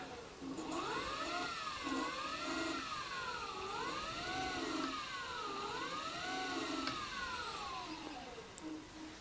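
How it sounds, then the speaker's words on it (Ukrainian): A FADA IDEA motor under repair spins as throttle is applied. It gives a faint, close electric whine that rises and falls in pitch in repeated swells. "Даємо газу. І можна бачити, що двигун наш обертається."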